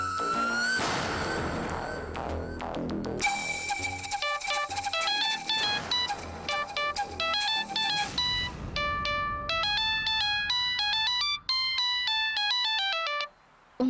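A mobile phone ringtone plays a bright, busy electronic melody of repeated tones, loud and continuous, cutting off briefly near the end.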